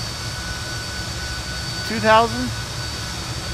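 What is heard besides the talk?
airplane engine on runway in flight simulator video game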